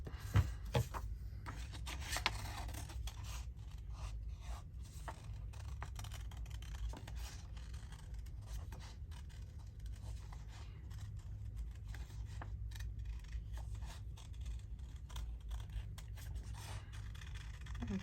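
Quiet, close paper crafting at a desk with scissors snipping paper in irregular short cuts and scraping rubs, soft crisp bursts scattered over a low steady background hum, no talking.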